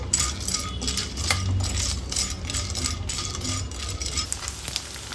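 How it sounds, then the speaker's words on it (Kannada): Edible gum fries and sizzles in hot ghee in a pan, with steady crackling frying and repeated metallic scrapes and clinks of a stirring spoon close by. "ತುಪ್ಪ ಬಿಸಿಯಾಗಿದೆ ಅಂಟು ಸೇರಿಸ್ಕೊಳ್ತಾ ಇದ್ದೀನಿ ಇದು ಅರಳುತ್ತೆ ಚೆನ್ನಾಗಿ ಅಲ್ಲಿವರೆಗೂ ಹುರ್ಕೊಳ್ಬೇಕು"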